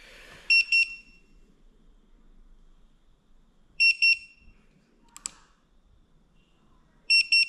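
A Segway ZT3 Pro electric scooter gives three loud double beeps spaced a few seconds apart, with soft handling clicks and faint background between them.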